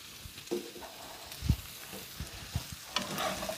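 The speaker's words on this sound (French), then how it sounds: "je mélange le tout" Red kuri squash, onions, curry and salt being stirred in a frying pan make a quiet sizzle punctuated by scattered scraping knocks of a utensil against the pan, a few sharper than others.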